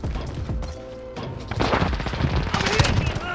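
Gunfire in the Call of Duty Modern Warfare video game erupts in a rapid volley of loud shots and crashing impacts, building to dense bursts toward the end.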